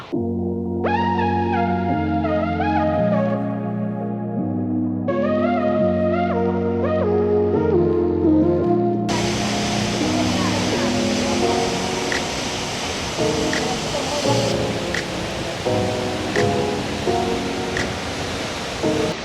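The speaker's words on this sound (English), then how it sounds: "I just made it to the first stop, which is a waterfall" Waterfall on Iceland's South Coast, a steady broadband roar of falling water that takes over about halfway through, after a stretch of tonal music, and then holds loud and constant to the end.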